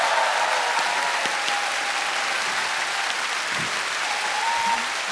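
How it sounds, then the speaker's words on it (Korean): A concert hall audience at a televised Korean 7080 music show applauds the band, dancers and chorus: dense, steady clapping throughout, loud and close, with faint crowd murmur and no speech. "자, 우리 밴드, 댄스, 앤 코러스. 박수 한번 주세요."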